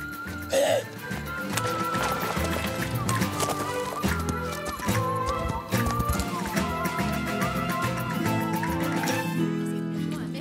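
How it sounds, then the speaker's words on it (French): Horse hooves clip-clop steadily beneath a busy mix of music and voices, with a brief whinny near the start. "c'est comme s'il y avait un cheval là, juste derrière nous"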